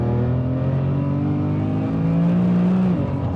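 A 1000 hp BMW M3 engine revs steadily, its pitch climbing and holding high, loud and close with no talking.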